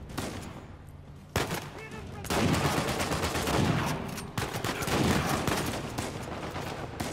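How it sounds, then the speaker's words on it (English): Rapid gunfire in the video game Uncharted 4: A Thief's End, with dense bursts of shots and turret fire crackling almost nonstop through a firefight, loud and close, with a quieter gap before the shooting resumes. "he's shooting through the statue"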